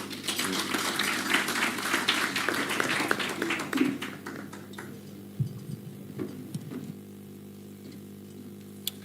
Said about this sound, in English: Another round of applause for the Honorable Kaoli Omondi